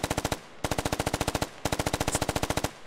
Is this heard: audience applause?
no